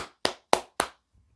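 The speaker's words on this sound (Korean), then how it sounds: "와, 박수" Four sharp hand claps in a steady, slightly slow rhythm, close and distinct, with a faint low rumble after the last one.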